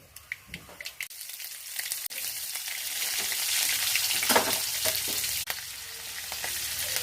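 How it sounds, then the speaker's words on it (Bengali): Mustard seeds and chopped onion spitting and crackling in hot oil, a steady loud sizzle that swells midway, with sharp pops and a few clanks of a spoon against the pan, close and without talk. "বন্ধুরা, তেল গরম দিয়ে দিচ্ছি। এই দেখো সরিষা দিয়ে দিলাম"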